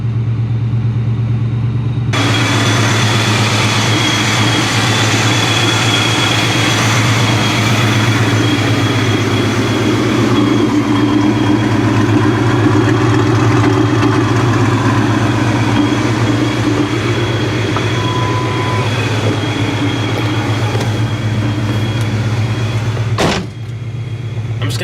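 Supercharged New Edge Mustang GT with long tube headers idling, a loud, steady, deep rumbling idle with a constant low hum and slight fluctuations, starting abruptly and dipping briefly near the end.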